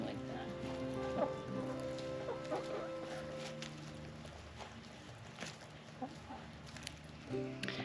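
Chickens cluck and murmur in a coop on an Alaskan homestead, layered calls over a steady hiss resembling rain, with scattered soft knocks and scratching nearby.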